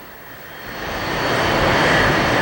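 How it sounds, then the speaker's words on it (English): Airplanes come in to land, a broad rushing engine roar that swells louder over a couple of seconds and holds steady close by. "The planes are finally landing."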